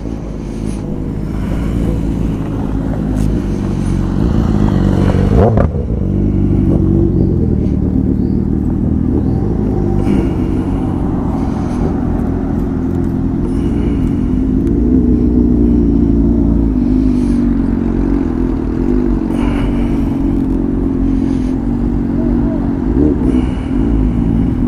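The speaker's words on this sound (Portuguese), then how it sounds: "Dá uma olhada a quantidade de motos" Many motorcycles gather at a roadside diner on the BR-381 highway, their engines making a continuous rumbling drone with occasional revving, close and loud throughout, with no voices over it.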